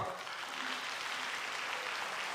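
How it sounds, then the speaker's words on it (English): Audience applause at an agribusiness entrepreneurship summit launch: a steady, fairly faint wash of clapping from a crowd, continuous and even throughout. "let's give her a big round of applause"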